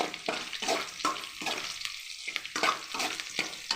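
Ingredients sauté in a pan for plantain (valakkai) curry, browning without tomato: steady close sizzle broken by rhythmic spoon-stirring scrapes roughly every half second, with no talk.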